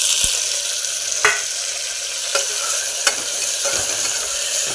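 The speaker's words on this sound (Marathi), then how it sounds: "कांदा छान लाल होईपर्यंत भाजून घ्यायचा आहे।" Onions frying in oil for a kharda mutton biryani, a loud continuous sizzle close up with a few sharp scrapes and clinks of a spoon stirring in the pan.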